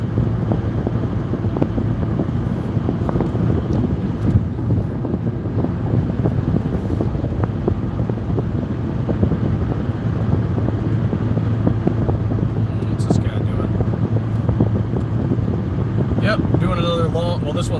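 A car cruises along the highway toward Phoenix, a steady broadband road and wind roar that holds constant throughout, loud and close from inside the cabin, with occasional faint knocks near the end.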